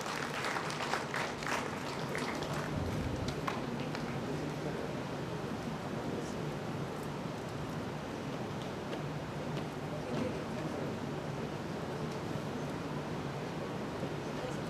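An audience at a conference valedictory session applauds prize-winning students, with dense, steady clapping that is loudest at the start and then continues as a broad, even wash of sound throughout.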